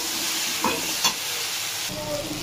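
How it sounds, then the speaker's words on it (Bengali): Ginger and tomato paste frying and being stirred in a pan for a fish curry with cauliflower and taro, a continuous close sizzle with a few scraping stir strokes and clinks of the spoon, no voices. "এইটা দিয়ে ভালো করে একটু কষিয়ে নিতে হবে, যাতে টমেটোর কাঁচা গন্ধটা না থাকে।"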